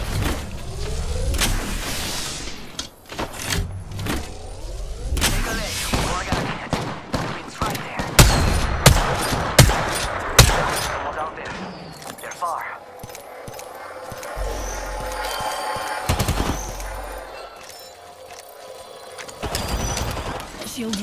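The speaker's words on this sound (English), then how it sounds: "They're shooting at me." Shooting in a sci-fi video game with shields and ring flares: sharp bursts of gunfire and mechanical clunks scattered across the scene, loud and close at times, with a voice talking over the action.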